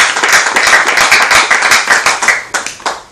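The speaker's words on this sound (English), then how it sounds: "Another round of applause," Audience applause at a university debate on air pollution between UNIUYO and AKSU, a loud, dense burst of clapping that thins into scattered individual claps toward the end.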